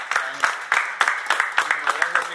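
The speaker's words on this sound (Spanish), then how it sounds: "pues un aplauso por el lugar y por la" Audience applause at a Mexican pest-control podcast special on fumigation, heard as a few people clapping in a steady, loosely synchronized rhythm, fairly close and moderately loud, with no one talking over it.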